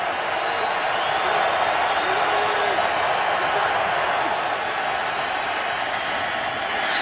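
Fans at a 2011 NFL game between the Seattle Seahawks and St. Louis Rams in St. Louis roar after a sack, a loud, sustained crowd wash that stays level from start to finish.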